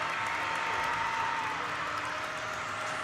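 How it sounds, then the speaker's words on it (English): A para ice hockey crowd at a Canada vs USA game cheers and roars after a power-play goal, a continuous, dense wash of voices with faint tonal horn-like lines running through it. "And the crowd goes wild."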